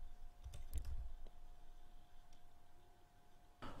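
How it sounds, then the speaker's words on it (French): Typing on a computer keyboard: a quick cluster of soft key clicks near the start, a couple of isolated taps, then another burst of keystrokes at the end, faint over a quiet room hum. "on va taper coach sportif"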